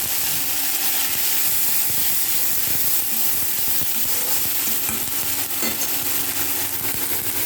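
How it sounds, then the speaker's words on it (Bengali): Prawns frying in a pan of oil on a gas stove, a steady, close sizzle with crackling that runs unbroken throughout and no voices. "চিংড়িগুলো ভেজে তুলে নিই।"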